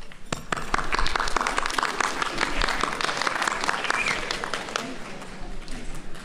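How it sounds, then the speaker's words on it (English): Graduates at a university nursing pinning ceremony applaud, a steady wash of many hands clapping together in a hall for several seconds with no talk over it. "Graduates, I ask that you take a moment to applaud and thank your parents and friends"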